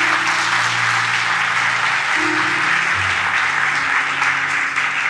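Congregation in a church service applauds loudly and steadily throughout, dense clapping with sustained tonal music or organ notes underneath.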